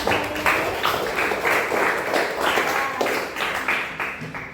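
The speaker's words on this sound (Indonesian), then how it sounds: "Beri tepuk tangan dulu untuk kita semua" Applause from a classroom of junior high students, a broad, steady patter of many hands clapping together at close range, continuing for several seconds with slight swells and no talking over it.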